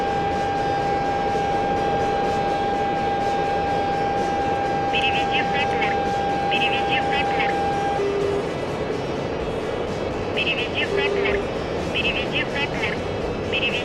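A dense, steady roar of many aircraft engines fills the scene in the flight simulator DCS, broadband and constant, with a thin tonal whine and faint chirping beeps on top.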